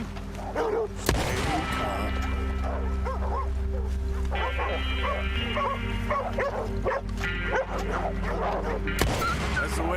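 Dogs bark and yelp repeatedly in Red Dead Redemption 2, a busy chorus of close yaps over a steady droning game ambience, with a few sharp impacts.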